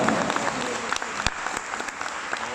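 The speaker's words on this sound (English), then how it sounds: "one more round of applause for Charmaine and Rihan" Audience applause at a landscape photography talk, steady dense clapping from a crowd filling the room with a few sharper claps standing out.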